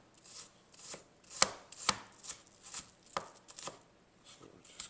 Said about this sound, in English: You want to just cut them in the fine bits.